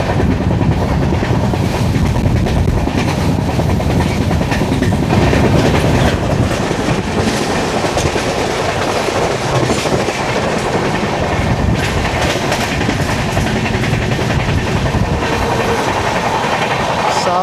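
Rajdhani Express running on rails, heard from inside an AC 3-tier coach, a loud steady rumble with continuous clatter of wheels over track joints and rattling carriage noise throughout.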